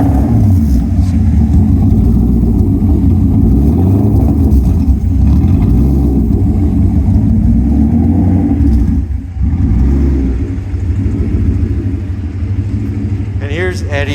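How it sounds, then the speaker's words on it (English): A 1988 Porsche 928 S4 with a 5-speed runs loud and steady, its engine rumbling through the rear muffler bypass with a deep burble, while people talk over it. "it'll show off the burble of the rear muffler bypass"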